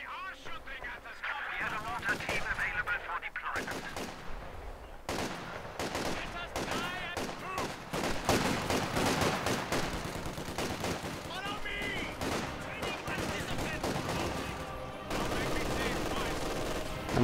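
Machine gun and rifle fire in a Company of Heroes 2 winter battle on the Rzhev map, with dense rapid bursts, scattered single shots and explosions, loud and near, with occasional talk over it.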